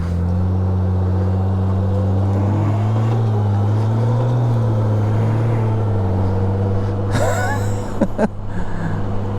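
A Gold Wing powered Spyder RTL three-wheeler hums along at a steady cruise, its loud, smooth engine drone shifting slightly in pitch, with wind noise and a brief burst of rattling near the end.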